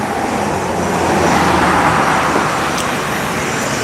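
Road traffic on a summer day, with shiny high-end cars going by in a loud, continuous roar that swells slightly midway as vehicles pass close, and no talking.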